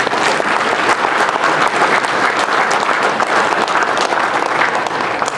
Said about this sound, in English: I'd like to have a nice round of applause for Mark